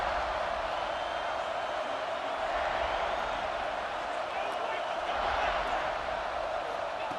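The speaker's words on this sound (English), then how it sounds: "This crowd ready to make its presence known." Stadium crowd noise at an American football game, a steady broad roar of many voices cheering from the stands, sustained and fairly even throughout with small swells, no distinct individual voices standing out.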